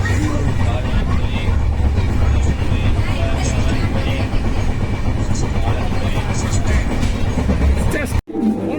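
A train runs on its rails with a dense, steady rumble and rattling carriage noise, heard from inside at constant loudness until a brief cut near the end.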